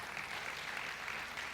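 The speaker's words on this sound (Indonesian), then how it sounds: "Tepuk tangan buat Yesus." A church congregation claps together during a healing service, an even wash of applause that stays faint and distant throughout the short stretch.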